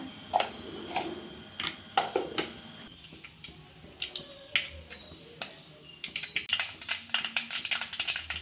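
A teaspoon of mustard seeds sputters in hot oil in a pan on the stove, giving rapid sharp pops and crackles in irregular bursts that thicken toward the end, close and distinct, with no talking.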